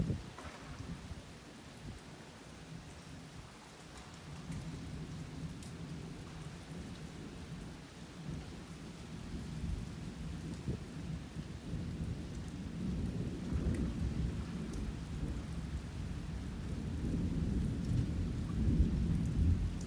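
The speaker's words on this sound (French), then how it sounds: "Attention, coup de tonnerre." Deep rolling thunder rumbles through a violent electrical thunderstorm over Clermont-Ferrand, building louder toward the end, over a steady hiss of rain falling on surfaces, with no voices.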